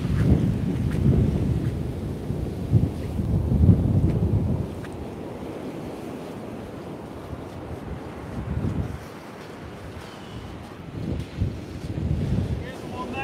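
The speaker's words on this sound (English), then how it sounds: "Seem windier down there, isn't it?" Strong gusts of 40 mph wind buffet the microphone on a beach during shore angling, a loud, roaring rumble that surges and eases over surf.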